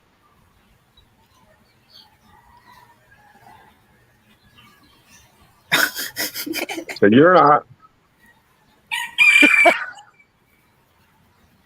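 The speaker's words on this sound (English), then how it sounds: "speaking of chickens that we're hearing in the background" Chickens in the background, a few loud clucking and crowing calls in two short bursts amid near silence, with brief quiet talk beforehand.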